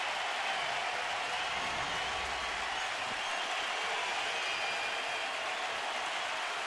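Crowd of just over 20,000 at Progressive Field during a Detroit at Cleveland baseball game, a steady broad roar sustained throughout, loud and even with no pauses.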